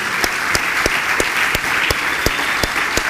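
A church congregation claps in unison as an offering of praise during worship, loud sharp claps in a steady even rhythm, roughly three per second, over a crowd-filled room.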